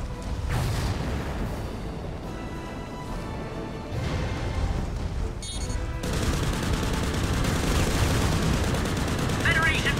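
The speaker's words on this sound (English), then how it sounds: "You're shooting at me already!" Gunfire in the mech combat game Mobile Suit Gundam: Crossfire, with sustained loud bursts and booming impacts through the whole stretch and a brief shift in intensity partway through. A player talks over parts of it.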